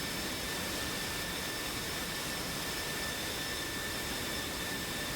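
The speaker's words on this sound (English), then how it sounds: "hopefully that will keep you at least a little bit braced for the sound of fighter jets roaring around the place" Fighter jet engines roar in a flight video game, a constant dense wall of broadband noise with a faint steady whine, loud and unbroken throughout with no talk.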